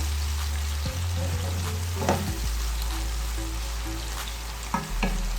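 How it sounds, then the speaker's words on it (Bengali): Garlic paste fries in a pan with a soft, continuous sizzle. A few stirring clinks and scrapes come through near the middle and end, over a low steady hum. "রসুন বাটাটা দিয়ে একটু আবারও ভেজে নেব"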